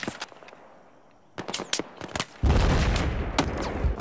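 Rapid bursts of gunfire in Battlefield 4 crack out in quick succession, then swell into a loud, sustained volley of overlapping shots.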